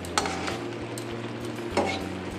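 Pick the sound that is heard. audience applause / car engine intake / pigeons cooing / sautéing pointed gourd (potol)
sautéing pointed gourd (potol)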